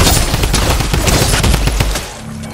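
Rapid automatic gunfire in Fortnite, a dense, loud burst of shots from more than one shooter for about two seconds before cutting off.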